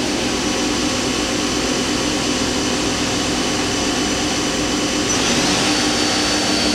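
Daewoo Puma 230SA CNC lathe with a Fanuc 18iT control spinning up its main spindle, a steady loud mechanical whir and hum that runs unbroken and rises slightly in pitch near the end.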